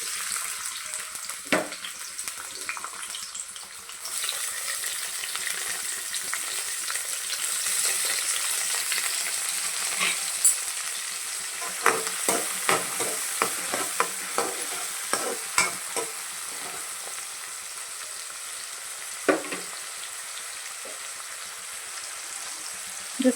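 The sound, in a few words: onion, coriander and mint frying in oil for brinjal masala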